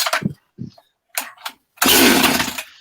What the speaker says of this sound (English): You're gonna start a chainsaw in your basement?